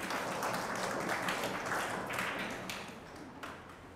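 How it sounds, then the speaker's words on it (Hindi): Congregation at Welcome Home Church Mumbai applauding, a sustained wash of many hands clapping at moderate distance that thins and fades toward the end. "आइए जोरदार ताली से खुदावन यीशु मसीह को धन्यवाद।"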